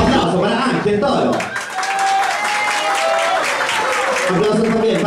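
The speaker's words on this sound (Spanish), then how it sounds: "Aplausos para Ángel Toro" An audience on a Latin American TV talent show applauds as a contestant is named, steady clapping running under a host's voice with music-like tones partway through.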